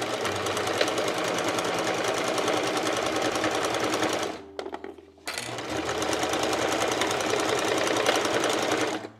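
A sewing machine stitches box corners on a fabric makeup bag, running steadily and loudly up close, pausing briefly, then starting again and stitching on with a fast, even rhythm.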